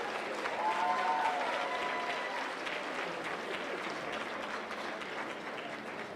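Audience applause for an honoree at a NAACP Freedom Fund awards banquet, steady rapid clapping from a room full of people sustained for several seconds, fairly distant and gradually thinning.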